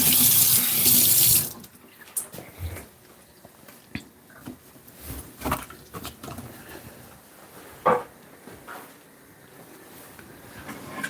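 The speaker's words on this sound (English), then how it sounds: "I'm gonna give my hand a bit of wash." Hands being washed under a running kitchen tap, a loud burst of water for the first second and a half, then quieter splashing and rubbing with scattered knocks and drips.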